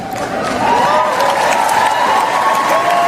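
A crowd at the Republican National Convention applauds and cheers, a dense wash of clapping and shouts that swells and holds steady, loud and fairly close.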